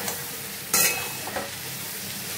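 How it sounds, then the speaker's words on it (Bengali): Cashews, melon seeds and raisins fry in butter in a pan, giving a soft, steady sizzle with a sharp burst of crackle and occasional stirring scrapes, close up and without talk. "কাজু বাদাম, চারমগজ, কিশমিশ সব কিছু ভাজা হয়ে যাচ্ছে।"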